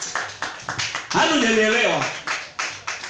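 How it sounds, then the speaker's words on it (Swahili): A church congregation claps hands for Jesus in a steady, repeated rhythm of sharp bursts, while a preacher's voice speaks and rises over the applause. "Piga Bwana Yesu makofi"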